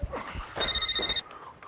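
A telephone rings once in a short electronic burst, loud and close, during an indoor comedy scene, with quiet room noise before and after.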